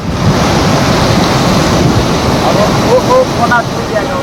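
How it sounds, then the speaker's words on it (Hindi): Floodwater rushes through the swollen Chakki river in Pathankot after heavy rain, a loud continuous roar with wind buffeting the microphone. "हिमाचल प्रदेश और पठानकोट में हो रही बारिश से पठानकोट का चक्की खड्ड उफान पर है।"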